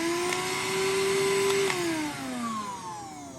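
A Greenote GSC40 cordless stick vacuum cleaner switches on and runs, giving a steady high whine whose pitch shifts and falls slightly near the end, close and alone.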